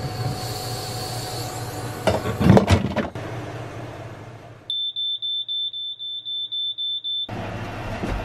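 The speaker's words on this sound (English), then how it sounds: "Okay, I have the propane alarm hooked up now." A propane gas alarm aboard a sailboat is tested. After some rumbling clatter, it gives a loud, piercing electronic tone that pulses rapidly and steadily for several seconds, then stops abruptly.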